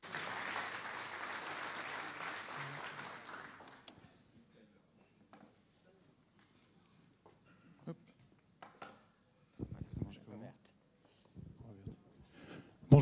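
An audience at a Synology business event in Paris gives a round of applause to welcome Samsung. Dense clapping lasts about four seconds and then stops abruptly, followed by quiet room sounds, light clatter and brief movement noises.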